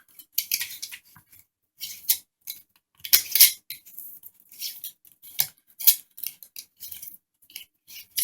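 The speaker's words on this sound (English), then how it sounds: "Going to put a ring on top of it." A metal screw ring is fitted and twisted onto a canning jar lid over a jar of dry-canned crackers, producing close, crisp metallic clicks and scrapes in irregular bursts with quiet gaps between.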